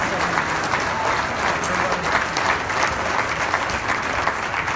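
A crowd at a youth football team's awards event gives a sustained round of applause for coaches and parents, a thick, even roar of clapping that lasts the whole stretch.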